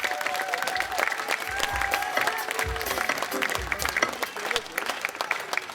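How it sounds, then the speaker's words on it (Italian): An outdoor crowd in Piazza Manzoni, Jesolo, claps warmly for an orchestra, sustained dense applause filling the whole stretch while scattered voices call out and talk over it. "Lo facciamo un bel applauso forte?"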